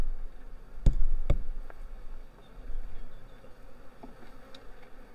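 Honeybees from hives in production buzz steadily at low level in an outdoor apiary, with two sharp knocks near the start and faint ambient noise throughout.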